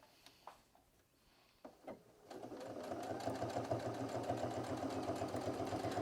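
A sewing machine stitches a double bag after a few handling clicks and taps, then runs in a steady, rapid rhythmic chatter, close and moderately loud.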